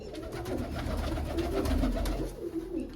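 Domestic fancy pigeons in a loft coo nearby in a steady, overlapping throaty murmur, with soft scuffs and wing rustles and no speech.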